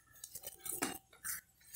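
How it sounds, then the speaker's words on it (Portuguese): A spoon clinks against a bowl while stirring bread dough with flour for a pumpkin and coconut bread, with quick, irregular metallic taps and scrapes close by and no talking. "E agora é mexer para dar o ponto, pessoal."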